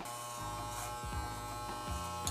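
Electric hair clippers buzz steadily and close up while cutting a fade, with a constant hum and slight changes in tone as the blades move through the hair.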